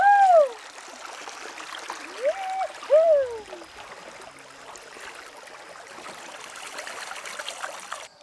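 Rushing water pours steadily through a sluice on Florida's Wacissa River in a continuous broadband wash, while a few rising and falling bird whistles ring out near the start.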